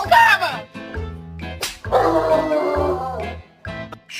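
A pet dog barking in short, loud, close bursts, several yaps separated by brief pauses, with voices mixed in.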